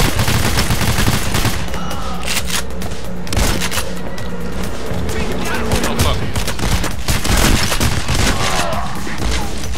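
Gunfire in the bank-robbery game Payday: The Heist: loud, dense bursts of automatic and single shots with booming impacts, rapid and overlapping throughout, with voices talking under it.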